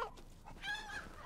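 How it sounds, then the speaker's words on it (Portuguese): Chickens cluck in Resident Evil Village, a short burst of fowl calls heard fairly close over a low game background, with no speech. "Ai, galinhas."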